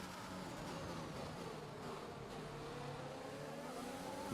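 Formula 1 race cars in the F1 2021 video game accelerating under power, a dense continuous engine roar with rising and falling pitch sweeps, loud and steady throughout.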